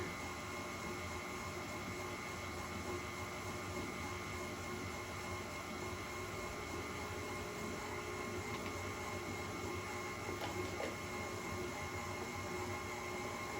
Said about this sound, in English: Let this mix until you no longer see any sugar granules.